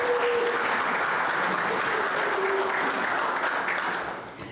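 An audience applauds at a community safe-streets meeting, dense continuous clapping held at a steady level for several seconds before it fades at the end, with faint voices underneath.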